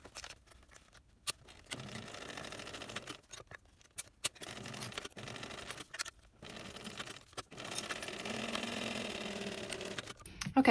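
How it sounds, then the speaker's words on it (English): Sewing machine stitching fabric pieces of a backpack together, running in uneven bursts with short pauses between, moderately quiet with fabric handling sounds and no talk. "then I'm going to sew both of those into place."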